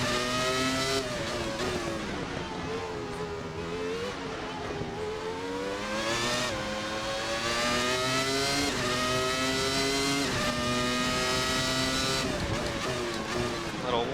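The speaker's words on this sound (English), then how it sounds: "it's a mid-90s Formula One car, and it's behaving exactly as I would expect it to" Williams FW19 mid-90s Formula One car in a racing game, its high-pitched V10 engine screaming continuously close up, rising and falling through gear changes and braking, with tire squeal and a voice talking over it.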